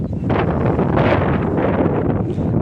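Steady wind buffets the microphone in a continuous broadband rush, loud and close, with gusts swelling and easing throughout.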